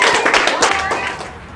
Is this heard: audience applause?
yes